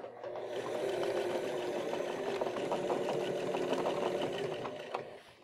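A sewing machine top-stitches waxed canvas on a backpack, running in one steady, continuous whir for about five seconds before stopping, loud and close with no talk.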